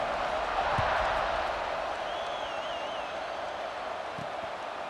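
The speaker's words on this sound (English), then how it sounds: "this crowd is buzzing after that last score" A football stadium crowd at a college game between Iowa State and Virginia Tech keeps up a steady, broad murmur from the stands, a dense wash of many voices with faint whistles rising above it.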